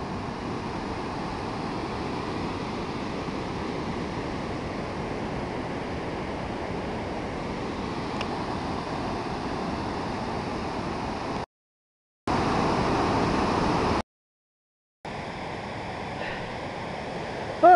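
A mountain river rushing through the Kegety gorge near Kol-Tor lake: a steady, broadband roar of water with a constant level, close and loud, briefly cut out twice near the end.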